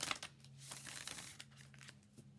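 Quiet papery riffling and crinkling, like cards being shuffled up close, in short soft bursts with no talking.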